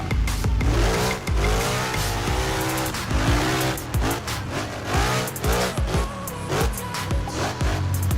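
Tire squeal from a car drifting in Assetto Corsa with an F310 SP mod, engine revving loud and continuous throughout as tires screech in long wavering bursts, with no talk.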